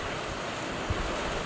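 Strong wind blows during heavy rain outside a house, a dense steady roar of gusts and rainfall with a faint low thump near the middle.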